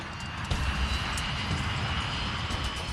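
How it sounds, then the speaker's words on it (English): A Boeing 737 jet rolling down the runway to take off, a steady deep engine roar with a rumbling low end, loud and continuous for a few seconds. "The 737 finally begins to roll down the runway."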